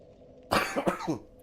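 A short cluster of two or three raspy coughs, close and fairly loud, in an otherwise quiet room.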